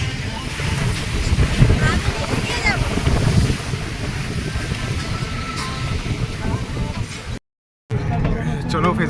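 Sea waves rolling onto the shore at Kargil sea beach near Bakkhali, a steady broadband wash with wind buffeting the microphone, brief dropout near the end; someone talks over the surf.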